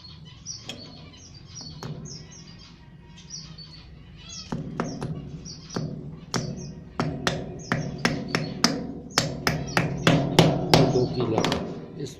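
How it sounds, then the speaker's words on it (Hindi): Hammer driving nails into a stick meant to hold a clay pot for birds, with a series of sharp, irregular knocks that grow quicker and louder over a background of bird chirping. "ये कील लगाया"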